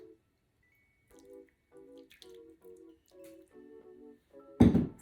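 Chicken broth and cream of chicken soup are poured over a broccoli cheddar chicken pot pie filling. A steady series of soft, rhythmic glugs ends in a louder wet splat, close and without talk.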